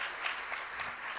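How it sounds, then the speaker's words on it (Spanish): An audience in an auditorium applauds steadily at a book launch event, a dense and even patter of clapping throughout the brief moment. "Un fuerte aplauso"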